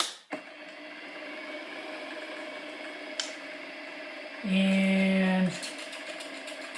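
A metal spinning lathe runs steadily with a workpiece locked in by the tailstock live center, giving a continuous motor hum with harmonic whine and a louder, brighter tonal surge partway through, with a brief word spoken.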